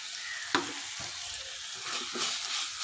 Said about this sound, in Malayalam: എന്നിട്ട് എല്ലാം കൂടി വഴറ്റി കൊടുക്കുക